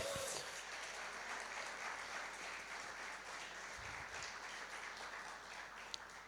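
A church congregation at a Spanish-language sermon applauds, a faint, distant, even wash of clapping that holds steady throughout without talk.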